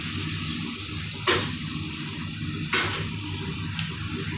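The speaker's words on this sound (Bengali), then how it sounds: "এবার আমি দিয়ে দেবো জল।" Water poured generously into a pan of fried potatoes and onions, a steady splashing pour with two brief louder surges, close and alone.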